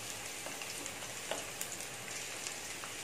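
Two green chillies sizzle in hot oil at the start of a squid roast, giving a steady soft crackle with small spits and pops, fairly quiet and heard alone.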